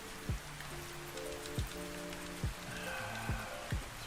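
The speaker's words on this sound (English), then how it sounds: "It's getting a little bit rainy." Rain falls in the video game Ark Survival Ascended as a steady, faint hiss, with soft musical tones and periodic low thuds layered on top.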